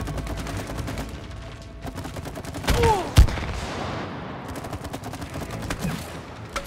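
Gunfire aimed at a sap-covered nest in the video game It Takes Two, a dense run of rapid shots with one sharper burst partway through, fairly loud over game ambience.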